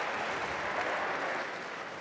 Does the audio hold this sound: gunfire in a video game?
no